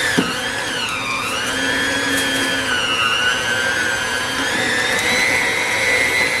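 An electric mixer whips homemade body butter with a steady, close motor whine whose pitch rises and dips slightly as the load changes, sounding alone without talk.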